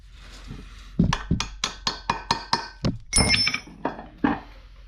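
Steel tool tapping a U-joint retaining clip into place on a 2002 Chevy Tahoe, a close series of about a dozen sharp metallic knocks in an uneven rhythm, some ringing briefly.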